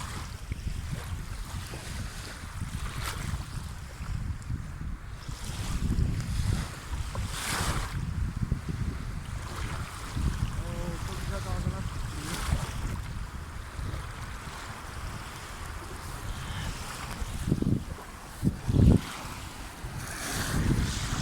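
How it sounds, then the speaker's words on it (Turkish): Whitecapped sea waves roll and crash near a boat out at sea, a steady rushing wash with periodic louder surges and strong wind gusting across the microphone; no talking. "Beyaz beyaz dalgalar çıktı."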